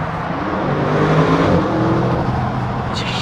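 An Audi RS6 Launch Edition engine pulls strongly under kick-down acceleration, a loud steady roar with rising tone heard from inside the car.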